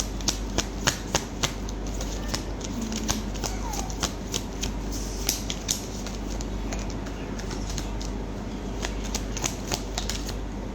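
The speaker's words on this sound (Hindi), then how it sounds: "Just quickly take out the cards." Tarot cards being shuffled by hand, a run of quick crisp riffling snaps and flicks that repeat in bursts over a low steady room hum, close and fairly quiet.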